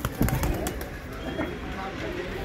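Pigeons, a breeding pair of male and female, cooing softly in a loft, low throaty calls repeating under a voice talking nearby.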